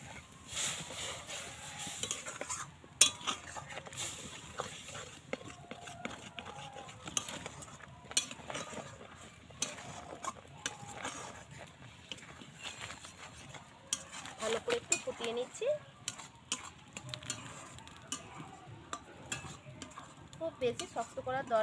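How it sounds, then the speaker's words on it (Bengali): A semolina sweet mixture with milk is stirred in a pan, giving continuous soft scraping and clinking of a spoon against the pan over a faint sizzle, with a voice speaking quietly now and then. "দুধটা দিয়ে একটু নাড়াচাড়া করে নেবো"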